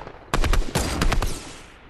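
Video game shootout gunfire: a quick burst of several sharp, loud shots in close succession, then a few more cracks, with the sound fading out afterward and no talking over it.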